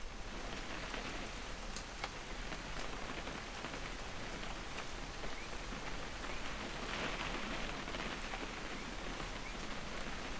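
Steady rain falls in the game What Remains of Edith Finch, a dense, even patter on surfaces that continues unbroken, moderately quiet and without voices.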